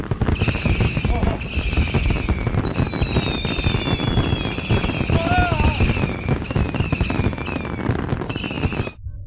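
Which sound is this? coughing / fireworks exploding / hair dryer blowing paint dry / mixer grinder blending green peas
fireworks exploding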